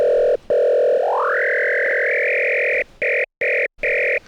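FM synthesis tone built in Renoise from stacked waveforms: a steady buzzy synth note that glides upward in pitch, holds, then stutters into several short gated bursts near the end, with no voices.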